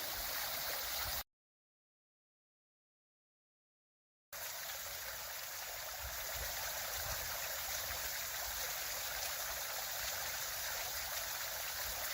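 A waterfall hung with icicles in Jefferson County, Kentucky, pours as a steady rushing stream, cut by a few seconds of silence before the flow resumes unbroken.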